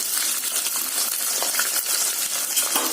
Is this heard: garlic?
yes